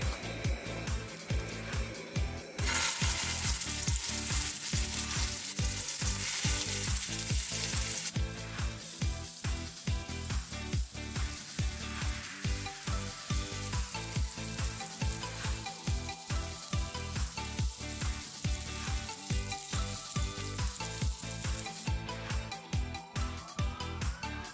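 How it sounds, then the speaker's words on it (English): Meatballs fry in hot olive oil in a non-stick skillet, giving a steady, close sizzle and crackle with a rapid spitting rhythm that holds loud throughout. "we're gonna brown the meatballs on all the sides"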